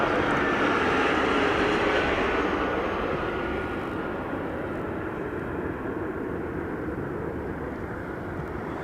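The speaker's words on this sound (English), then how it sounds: "we got Delta coming in once again" A Delta Airbus A321 airliner arriving from Seattle at Harry Reid International Airport in Las Vegas: a loud, steady broadband jet roar close by that slowly eases off in the upper range, with no speech.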